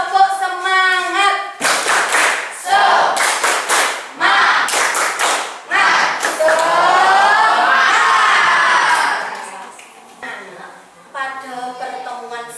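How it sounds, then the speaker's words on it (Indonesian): A school class of children performs the rhythmic tepuk semangat spirit clap during a religious education lesson, with bursts of patterned claps mixed with loud group chanting and shouts, and a teacher's voice before and after. "Coba, mari kita lakukan tepuk semangat."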